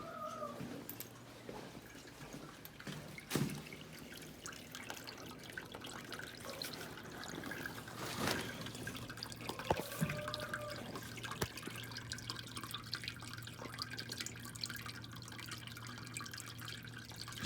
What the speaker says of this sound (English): this water here is going down a hole in the floor which I dug